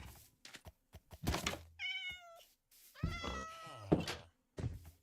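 Cats meow repeatedly on a video game farm, two drawn-out wavering meows standing out among thuds and knocking sounds, moderately close and with no talking over them.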